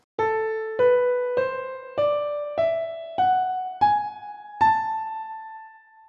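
Eight single notes of an ascending melodic minor scale climb step by step in an even, unhurried rhythm, each ringing clearly on a piano-like tone, the last held and fading out.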